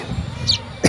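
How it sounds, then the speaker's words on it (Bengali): A single short, fairly loud human cough bursts out near the end, after a stretch of low, murky background noise with a brief faint chirp-like sound midway. "আমার কাশি হয়েছে"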